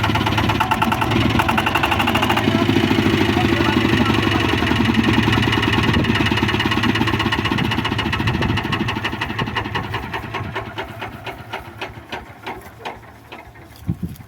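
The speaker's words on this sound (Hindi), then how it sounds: "तो सबसे पहले हमने इंजन को स्टार्ट करना सीख लिया।" A power tiller's diesel engine, started using the decompression lever, runs loud and close with a steady chugging beat, then slows into separate thumping strokes as it winds down.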